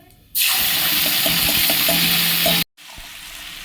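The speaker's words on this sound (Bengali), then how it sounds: "পাঁচ ফোড়ন দিয়েছি, একটু ভাজা ভাজা হয়ে গেলে" Panch phoron spices hitting hot mustard oil in a pan, a sudden loud sizzle that holds steady for about two seconds with faint stirring clicks, then cuts off abruptly to quieter frying.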